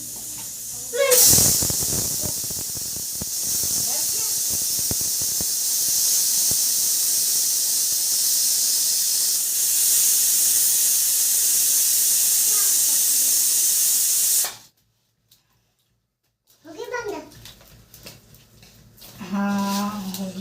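A loud, continuous hiss of steam from a pressure cooker whistle lasting many seconds, then cutting off abruptly, followed by faint voices.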